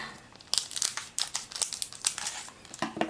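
A Pokémon card booster pack wrapper from the Cosmic Eclipse set being torn open, with sharp, close crinkles and rips coming in quick irregular bursts.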